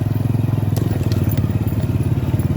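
Honda automatic scooter climbing a hill on a rural road, with a loud, close engine drone that pulses rapidly and steadily under strain, accompanied by rattling and wind noise.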